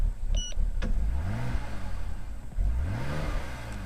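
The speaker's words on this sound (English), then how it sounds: "Rev's good, but it dies coming back off." A BMW engine running on a replacement ECU rises in two close revs, each swelling then sagging as the idle falters on the way back down, loud and without talk.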